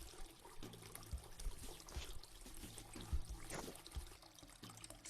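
Tap water runs and trickles steadily while hands are rinsed under it during a sterile handwashing routine, a close, soft splashing stream with slight shifts as the hands move.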